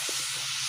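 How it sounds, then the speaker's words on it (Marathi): A pot of water for cooking rice, already seasoned with whole spices, lemon and salt, boils on the stove with a steady close hiss and a faint low bubbling underneath. "भाताचं पाणी छान उकळून आलेलं आहे"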